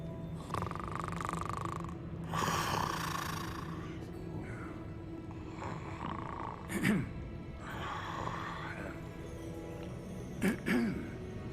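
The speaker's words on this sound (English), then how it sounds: "Someone's snoring." A man snores in Hogwarts Legacy, slow heavy rasping breaths spaced several seconds apart, faint beneath a quiet game ambience with soft music.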